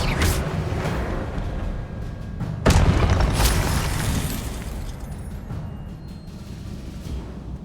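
Spell effects in Hogwarts Legacy: a steady rumbling magical roar with a sharp booming burst partway through, loud and close, then fading into a continuing crackling wash with no talk.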